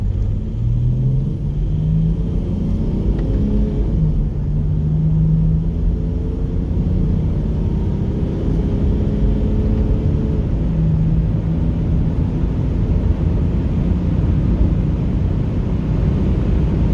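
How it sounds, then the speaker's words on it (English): A 5.7-litre Jeep Grand Cherokee WK1 kicks down into second gear and accelerates, its engine a loud, steady rumble with rising tonal drone heard from inside the cabin, no talking. "I'm gonna give it a little kick down so you can see what I'm talking about."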